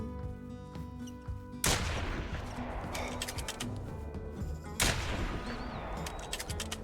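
Two loud rifle shots at a mule deer in the hunting game TheHunter Classic, a few seconds apart, each a sharp crack trailing into a long rolling echo over quiet outdoor ambience.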